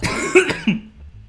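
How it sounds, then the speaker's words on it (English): A few harsh coughs in quick succession, close and loud, followed by a brief quiet throat sound. "excuse me about that horrible coughing still"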